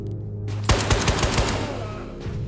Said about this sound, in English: Is that you shooting at me?